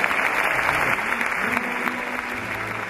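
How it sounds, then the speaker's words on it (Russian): Sustained audience applause at a memorial concert honoring Honored Artist of Russia Vyacheslav Abrashkin, a dense, steady clapping from a full hall that holds evenly throughout. "важны ваши аплодисменты"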